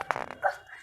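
A small child imitates a dog's bark with a few quick, voiced yips in a short burst, close to the listener.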